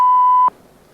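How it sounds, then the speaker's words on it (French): A censorship bleep on a French TV show covers a spoken word: one loud, steady, pure tone lasting about half a second, then cutting off abruptly into near silence. "il y a eu un bip, il a dû dire quelque chose de dingue"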